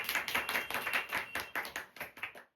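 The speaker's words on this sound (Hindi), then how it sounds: "एक बार जोरदार तालियां इसके लिए।" Enthusiastic applause for a student from a group, a dense run of rapid claps that carries loud and steady before cutting off.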